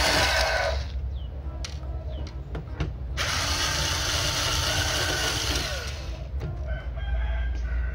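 Screws and the hinge being worked loose on a Lenovo G40-70 laptop, with a whirring drill-like tool and sharp clicks and taps over steady background noise.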